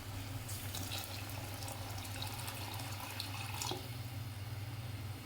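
Water pours steadily into a pot of fish curry for a few seconds, a continuous close splashing trickle with no talk.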